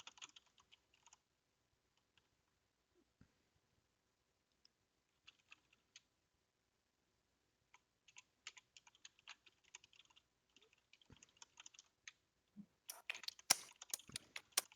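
Keystrokes on a computer keyboard come in scattered, quiet bursts of clicking with pauses between them, building to denser and louder typing toward the end. The sound is close, and nobody speaks.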